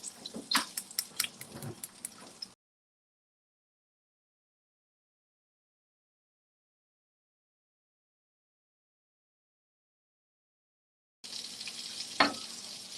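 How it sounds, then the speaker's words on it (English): Rice cakes for Korean topokki stirred in a hot pan, giving a busy scraping, sizzling clatter for a couple of seconds, then silence, then a second sizzling burst with a sharp scrape. "Just stir a little bit so that the rice cake doesn't stick together."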